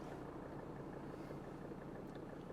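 An old Mercedes 300D diesel engine runs steadily at idle, a faint, even, low rumbling clatter with no other sounds.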